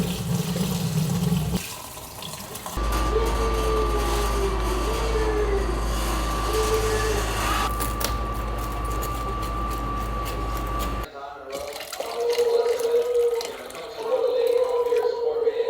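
Heated water running into a sink while bottles and dishes are washed, a steady tap stream with clinks and handling noises, pausing briefly partway, then resuming.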